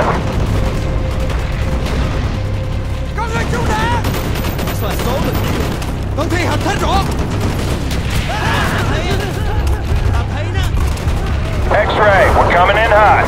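Heavy strafing-run gunfire in the Call of Duty Black Ops mission The Defector: dense, continuous bursts and booms fill the whole stretch, with urgent shouted radio voices cutting in over the barrage.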